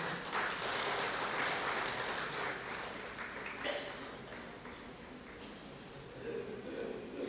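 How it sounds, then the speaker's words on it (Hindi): Sustained crowd applause welcoming a guest at a Pune mushaira, steady and fairly loud from start to finish, with no voices over it. "ज़ोरदार तालियों में इस्तकबाल करें।"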